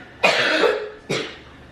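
A child coughs twice indoors, two sharp, close bursts about a second apart, the first longer and louder, with no talk.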